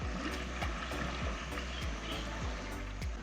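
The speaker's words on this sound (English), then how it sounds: "The silence and small sounds from waves coming into the lagoon." Small waves wash gently into a lagoon on a jungle-fringed private island in the Philippines, a soft rhythmic lapping with repeated low thumps about every third of a second, faint and close, with no talking.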